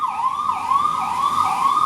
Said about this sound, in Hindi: एक एम्बुलेंस घटनास्थल पर पहुंची है, हादसे वाली जगह पर पहुंची है।